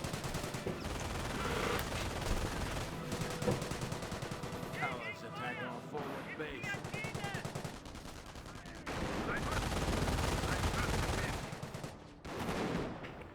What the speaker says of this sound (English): More fire there onto the scope rifle squad